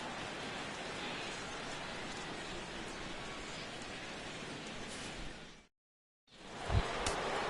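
Steady broadband rain hisses over a baseball stadium in a PS4 game, continuous and even, cutting to silence briefly before resuming with a faint thump.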